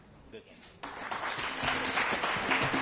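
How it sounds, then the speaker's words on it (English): Audience applause for past quiz champions in a quarter-final, starting softly and swelling into steady, sustained clapping from a crowd, fairly close. "Let's keep it up for that round of applause for these excellent past champions."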